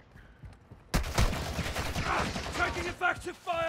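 Gunfire in the Call of Duty DMZ video game: a sudden loud burst of shots followed by dense, rattling fire, with voices near the end.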